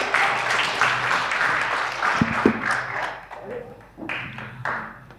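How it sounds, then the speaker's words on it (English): Audience at the end of a panel discussion on democracy and leadership breaks into steady applause, moderately close, thinning out after a few seconds while a voice speaks over it. "Let's end it with an applause."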